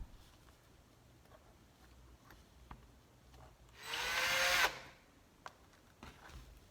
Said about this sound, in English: I'm going to go ahead and drill a hole for the string.